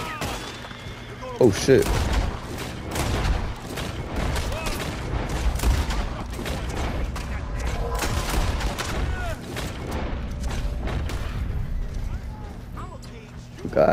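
Repeated gunfire in the Western online game Red Dead Online, rapid overlapping shots and bursts running steadily through the stretch, loud and close, with a player's voice briefly exclaiming over the shooting.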